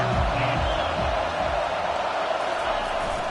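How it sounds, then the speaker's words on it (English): A stadium crowd roars in EA College Football 25 during an Oklahoma versus FCS East game, a dense, steady wall of cheering that fills the whole stretch at high volume with no breaks. "listen to this crowd roar"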